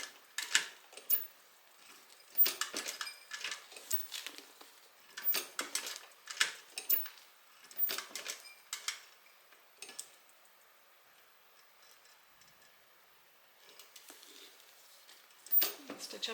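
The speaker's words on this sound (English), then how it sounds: "I am going to just take some hand cranks here." Hand-cranked sewing machine stitching around the edge of a fabric hip bag, a run of short mechanical ticking clicks in bursts with brief pauses between them, fairly close and moderate in level.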